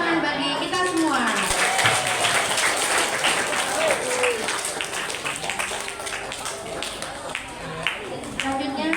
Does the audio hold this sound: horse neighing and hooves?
no